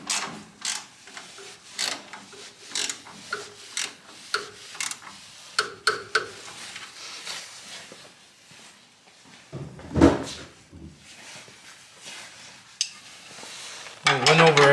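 Wrenches tighten the engine mount bolts on an AK as the motor goes in, a run of sharp ratcheting clicks and metallic clacks in uneven bursts, close and fairly quiet, with a few louder knocks.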